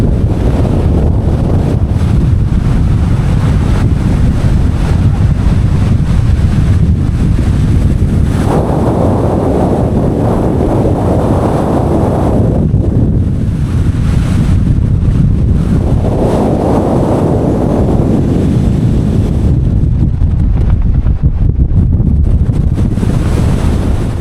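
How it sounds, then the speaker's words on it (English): Strong wind buffeting the microphone on a fell top in the Lake District, a loud, constant low roar with gusty surges and no voices. "It was mad windy."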